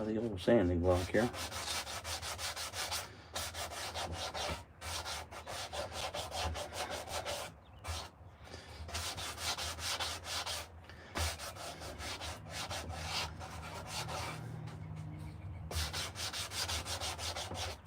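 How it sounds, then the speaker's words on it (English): A sanding block rubs over a carved wooden spoon in repeated short strokes, a close, soft scratchy rasping broken by brief pauses, with no talk. "let's try the old sanding block here."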